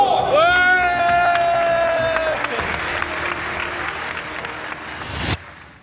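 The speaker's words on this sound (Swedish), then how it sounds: "Ni kan ge er själva en mycket större applåd!" Loud applause and cheering from an Ironman race briefing crowd fills the room, a dense sustained clatter of clapping with a whistle and whoops at the start, then cutting off abruptly near the end.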